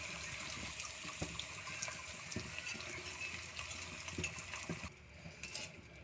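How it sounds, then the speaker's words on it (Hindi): Fried jalebis are dropped into sugar syrup, producing a faint, steady wash of sloshing liquid with light splashes and small clinks, and no talking. "ये देखें शीरे में हमने डाल दिए जलेबियाँ।"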